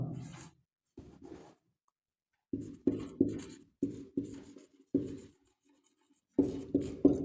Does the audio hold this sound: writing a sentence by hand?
yes